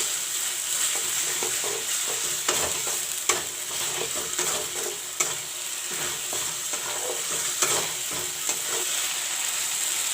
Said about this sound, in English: Put in the chopped tomatoes.